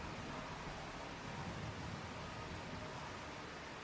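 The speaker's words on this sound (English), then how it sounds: "waiting for the rain to stop" Steady, even hiss of heavy rain falling during a thunderstorm in a video game, continuous and fairly soft throughout with no talking or thunder claps.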